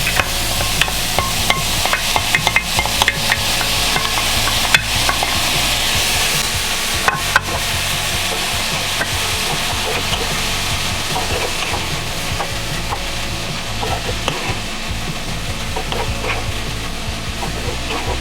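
Chopped tomato fries in a hot pan for a vegetarian quesadilla filling, making a loud, dense, continuous sizzle broken by scattered scrapes and knocks of a utensil stirring through it.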